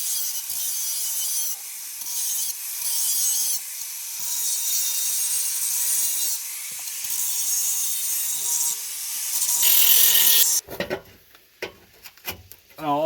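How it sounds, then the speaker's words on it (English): A mini grinder works over metal edges on a truck part, a loud steady high whine with brief dips between passes, cutting off near the end into quieter handling noises and clatter. "I just got to take the mini grinder and clean the edges up"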